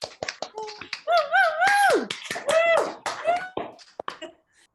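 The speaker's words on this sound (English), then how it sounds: "give all of our speakers an enormous round of wild applause" An audience at a stage event for speakers breaks into applause, with scattered clapping, loud whoops and whistles rising and fading in bursts over several seconds.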